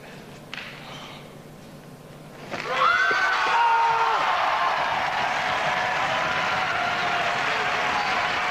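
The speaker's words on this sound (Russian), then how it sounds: "Зрители аплодируют." Spectators applaud a karate kata performance at a competition, the clapping starting suddenly after a quiet moment and continuing as steady, dense applause from a large crowd.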